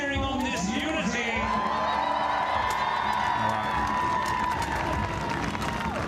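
A crowd at a buhurt tournament cheers, whoops and shouts steadily, with a loud sustained roar and scattered high yells, and a voice speaking over it.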